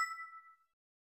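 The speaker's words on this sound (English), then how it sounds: "a notification bell for more videos coming up." A single clean notification-bell ding rings out alone, a bright metallic tone that decays to silence within about half a second.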